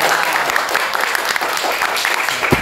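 Audience applause at an informal sharing session, a steady dense patter of many hands clapping close up, loud and continuous throughout with no voices over it.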